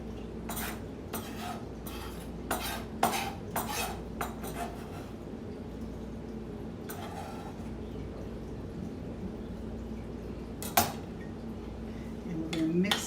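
Fresh herbs are mixed into a creamy cucumber salad in a bowl. A utensil clinks and scrapes against the bowl in quick bursts, then goes quiet, with a few louder knocks near the end.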